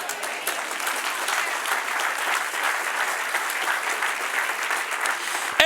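A church congregation applauds in response to a sermon, steady dense clapping sustained at an even level throughout with faint crowd murmur.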